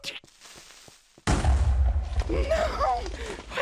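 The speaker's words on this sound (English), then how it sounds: "that's when I heard it the explosion" A sudden loud blast in a Minecraft-style block game erupts after a quiet stretch, its heavy low rumble rolling on for a couple of seconds beneath scattered in-game sounds.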